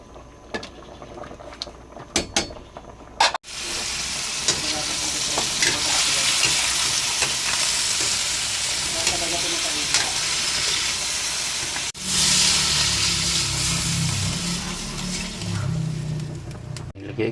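Baguio beans frying in a hot pan with pork hock, a loud continuous sizzle with scraping stirs throughout, a sharp break near the start and another later as the sizzle swells again.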